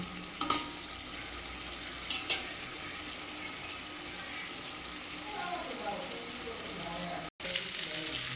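Steady sizzling of potatoes and green banana frying in oil, with a couple of sharp utensil clinks against the pan and a continuous bubbling hiss throughout.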